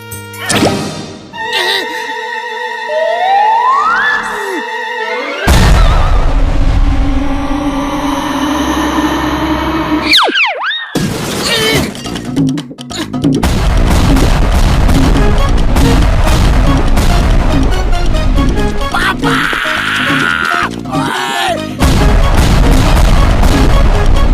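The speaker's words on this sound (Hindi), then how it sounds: "अब बम ब्लास्ट कर दो।" Cartoon bomb blast as Motu sets off bombs on the right side of a house, a sudden loud burst with a sweeping whistle, then sustained rumbling, crashing debris and clattering music-like effects that stay loud to the end.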